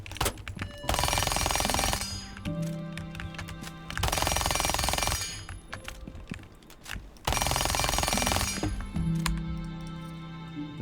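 Automatic rifle fire in Rainbow Six Siege: three long, loud, rapid bursts separated by short pauses, with clinking and metallic tails between volleys.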